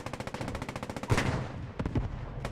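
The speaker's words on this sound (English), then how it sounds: "You see some big shots going down there from the Panzer" In the World War II shooter Post Scriptum, rapid gunfire rattles continuously while a Panzer tank's heavy shot booms out once and then a second time, both loud against the ongoing shooting.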